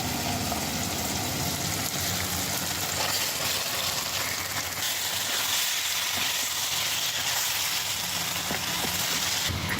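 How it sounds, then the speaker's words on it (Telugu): Chicken curry with tomato pieces and ridge gourd frying in a pan as the chicken is mixed in, giving a steady loud hiss and sizzle that runs throughout with faint stirring scrapes and no talking. "ఇప్పుడు ముందే కలిపి పెట్టుకున్న చికెన్ వేసి బాగా కలపాలి"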